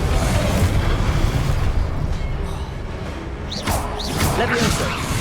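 A Confringo spell in Hogwarts Legacy bursts with booming explosive crashes and whooshes amid continuous battle noise, with a voice calling out over the action.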